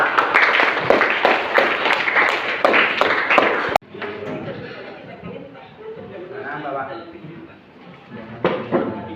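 Audience claps together at an Indonesian religious lecture: a dense burst of applause for about four seconds, then it cuts off abruptly into quieter room murmur and talk.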